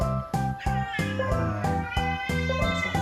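Several cats kept indoors meow loudly and repeatedly, one plaintive call after another in a steady series, close and clear with no talking.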